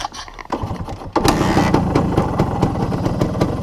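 A Suzuki Satria 120R two-stroke motorcycle engine starts up and idles with a steady, rapid putter that stays loud and even, no one speaking.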